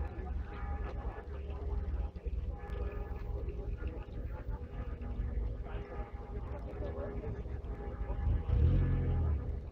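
A 1959 Borgward Isabella TS, 1500 cc and 75 hp, pulls away at a vintage car rally, its engine rumbling steadily and swelling louder near the end amid crowd noise and a voice over the PA.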